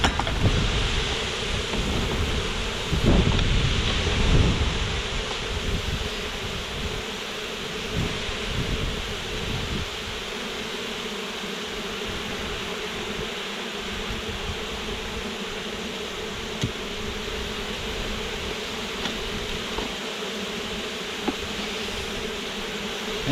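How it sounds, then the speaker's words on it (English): Honeybees hum in a steady, dense drone around an open hive frame as the brood nest is aired out in February, close and continuous, with occasional handling knocks and rustles. "Get a few of those bees off of there so I don't mash a bunch."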